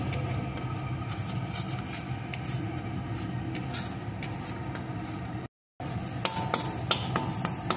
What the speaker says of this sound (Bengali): এখন ডিমটাকেও মশলার সাথে একটু ভেজে নেব, এইভাবে নাড়িয়ে নাড়িয়ে